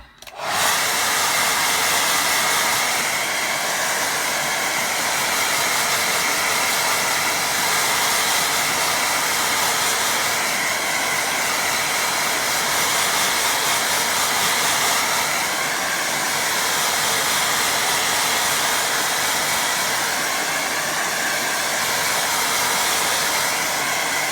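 A hair dryer blows over a lake-and-boats watercolour painting to dry it, a loud, continuous whooshing hum that starts abruptly and runs steadily throughout, with no talking.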